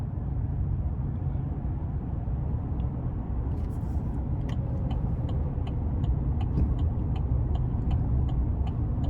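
A 2021 Chevrolet Silverado 1500 LT crew cab with a 5.3 engine drives at low speed, a steady low cabin rumble with a soft repeating tick from the turn signal as it turns in.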